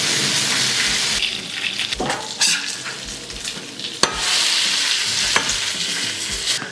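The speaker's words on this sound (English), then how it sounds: "I'm gonna throw some bacon on there for that breakfast vibe." Bacon frying in a pan makes a loud, close, continuous sizzle, with crackling bursts and occasional knocks as the strips are moved about.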